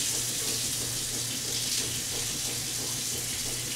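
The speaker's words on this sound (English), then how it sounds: "Can you turn the water on cold?" A kitchen water tap runs on cold while lemonade is being made, giving a steady, even rush of water with no talking.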